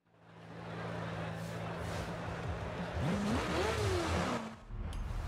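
A car in Forza Horizon 5 pulls away and revs, its engine note climbing and dipping through several throttle blips over a steady low drone, loud and close with no talking.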